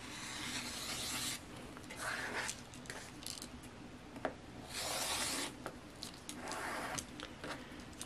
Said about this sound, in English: And then I'm going to just trim both sides.